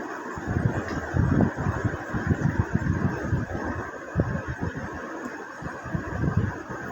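A sewing machine runs steadily while stitching bell-bottom trouser fabric, its motor humming continuously under quick, uneven bursts of low mechanical chatter from the needle.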